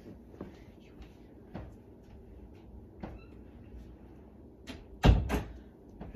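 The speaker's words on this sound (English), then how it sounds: "I just had to go and shut my bathroom door because that just looks weird." A bathroom door is pushed shut with one sharp, fairly loud thud near the end, after a few softer knocks and handling sounds in a quiet room.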